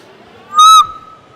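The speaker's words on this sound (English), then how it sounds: "It was an owl." A single owl hoot rings out loud and clear for a moment, a steady tonal call rising sharply from a quiet indoor convention-hall background and fading quickly.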